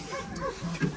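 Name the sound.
sled dog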